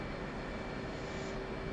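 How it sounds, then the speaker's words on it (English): An aircraft engine in a flight simulator game hums as a steady, even drone with a faint high whine above it, unchanging throughout and with no talk. "Okay, engine started"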